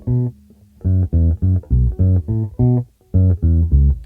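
Bass guitar playing a riff staccato: a run of short, detached low notes with clear gaps between them, loud and close with no talking.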